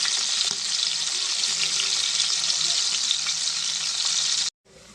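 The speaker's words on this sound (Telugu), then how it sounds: "కొంచెం గోల్డ్ కలర్ వచ్చే వరకు మనం ఎన్ని చేపలు ఫ్రై చేసుకుంటే" Dried fish frying in hot oil until golden, for a cucumber and tomato dried-fish curry, gives a loud, steady, dense sizzle that runs nearly five seconds before cutting off abruptly.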